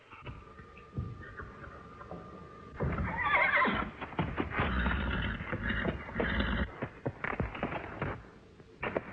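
A horse whinnies in a shrill, trembling call amid scuffling and thudding movement nearby, fairly faint overall, with no voices.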